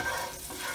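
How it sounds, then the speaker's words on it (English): Steady broadband sizzling of garlic frying in a hot pan, a continuous crackling hiss with no talking. "Ooh, nice sizzle."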